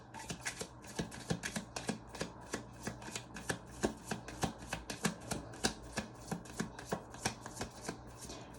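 A tarot deck is shuffled close by in quiet surroundings. Soft cards slap and riffle in a quick, steady rhythm of many short taps.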